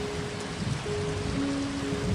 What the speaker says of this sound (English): And it still rains,